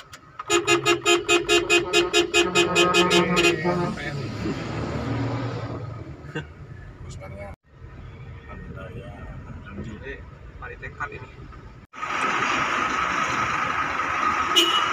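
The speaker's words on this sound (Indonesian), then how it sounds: "Ini memang jam-jamnya bus Padang lewat dari Jakarta ke Padang ya." Intercity bus on the Jakarta to Padang route sounds a loud, rhythmic musical horn in rapid repeated blasts, then rumbles past close by with engine roar; a second loud vehicle pass follows near the end, and people talk throughout.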